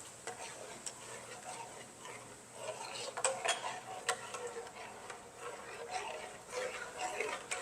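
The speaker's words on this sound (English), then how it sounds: "Give this up a stir." Shrimp creole is stirred in a pot: soft, irregular spoon scrapes and clinks against the pot, fairly quiet, under a low background of kitchen sounds.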